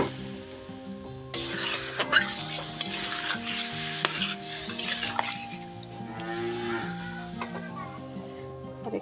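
Water hits a hot pan in an egg curry, bursting into a loud sizzle that then settles into steady bubbling with repeated stirring scrapes, while background music plays throughout.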